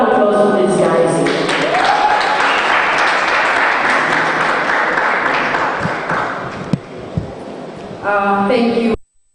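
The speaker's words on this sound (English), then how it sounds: "Another round of applause for these guys." Sustained audience applause at a Social Good Summit, dense clapping from a large crowd that fades somewhat, then a brief renewed burst before cutting off.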